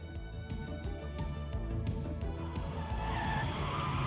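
A race car roars straight toward the camera and pedestal, a loud, sustained engine and tire rush that stays dense and strong throughout, with a faint squeal building near the end.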